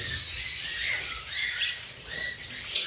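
Lovebirds kept for sale, large king-size breeder pairs, chirp in a continuous high twittering chorus that stays busy and fairly close throughout, with no voices over it.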